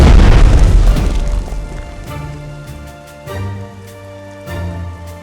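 Naval gunfire explosion in the strategy game Strategic Mind: The Pacific, a loud, deep boom that rolls and fades over a few seconds, followed by low musical tones from the game's soundtrack.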